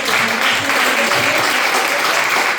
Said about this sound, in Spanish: Un aplauso para esas vidas